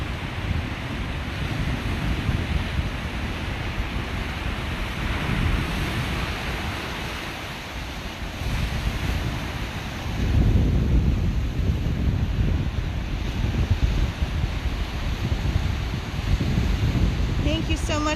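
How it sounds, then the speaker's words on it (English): Massive ocean surf crashes along the rocky shore at Estero Bluffs State Park, a loud, continuous roar of breaking waves with heavy wind buffeting the microphone and surges building again partway through. "These waves are so massive."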